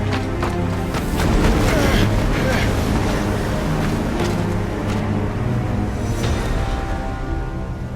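Stormy wind roars steadily in a Final Fantasy XVI game scene, a dense continuous rush with a broad low rumble that swells slightly and holds loud throughout, with no voices over it.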